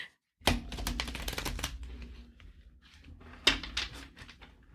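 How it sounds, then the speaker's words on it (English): Tarot cards are shuffled by hand, two quick bursts of riffling clicks and flutters separated by a short pause, close and crisp in a quiet room. "Not as satisfying of a shuffling sound as when Cassie does it."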